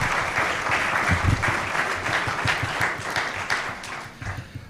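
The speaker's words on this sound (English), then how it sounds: "And now you can give your round of applause to our head table" A luncheon crowd at the National Press Club applauds the head table guests, sustained clapping that holds steady and then thins out toward the end.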